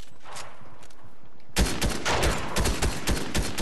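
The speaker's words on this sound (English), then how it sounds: "All I hear is shots all around" Video game gunfire in a Fortnite-style match: bursts of shots from several directions, starting faint and distant, then turning into loud, dense rapid fire that fills the rest of the moment.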